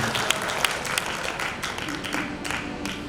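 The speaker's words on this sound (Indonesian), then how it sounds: "Tepuk tangan bagi Tuhan." Applause from a senior community worship service congregation at a GBI church, a steady even patter of many hands clapping at moderate volume, continuing throughout with faint background voices.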